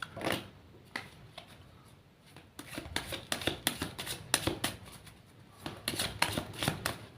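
Tarot cards being shuffled by hand, a steady run of crisp riffling and flicking bursts with short pauses, close and fairly quiet, no voices.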